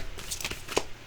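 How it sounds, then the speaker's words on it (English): Cards are shuffled briefly, a soft riffling flutter with a few light taps, close but quiet. "Shuffle it 3 times."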